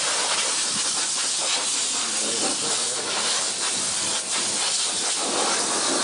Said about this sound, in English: I don't want to hear that compressor